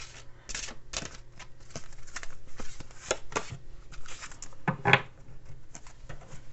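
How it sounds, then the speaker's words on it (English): Large Spirit Animal Oracle cards being shuffled by hand, a close series of soft papery riffles and slaps in an uneven rhythm, with a louder flurry near the end and no talking. "These cards are big cards, so they're kind of hard to shuffle around here."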